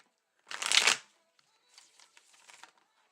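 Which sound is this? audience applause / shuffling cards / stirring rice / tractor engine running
shuffling cards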